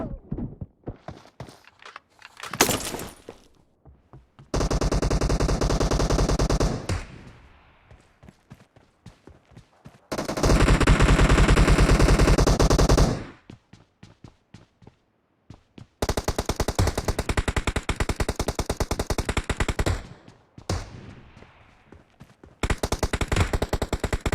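Long, loud sustained bursts of automatic gunfire in the PUBG Mobile video game, separated by short quiet gaps with faint footsteps and single shots in between.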